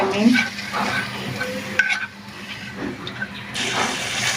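Whole spices for a duck curry hit hot oil rendered from the duck and are stirred around the pan, giving a steady moderate sizzle with scraping and a few clinks.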